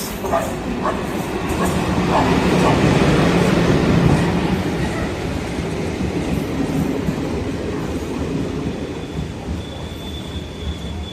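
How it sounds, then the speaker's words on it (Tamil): A Madurai–Rameswaram passenger express train rumbles loudly into a station with rattling wheels and a faint high squeal, the noise swelling and then easing off as it slows. "Madurai Rameswaram passenger express"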